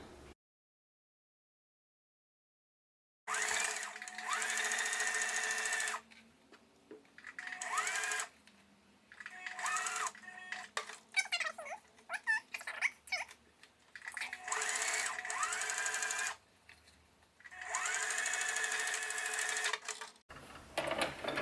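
A sewing machine stitches a quarter-inch seam along a fabric face mask, running in several bursts of steady whirring separated by short pauses, close and clear.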